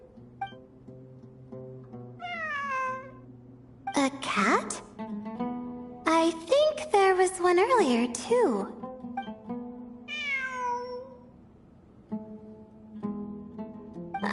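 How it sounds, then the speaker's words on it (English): Cat meowing in a video game exploring ruins, several drawn-out rising meows clearly heard amid the game audio, with a person speaking briefly between them. "It really is a cat."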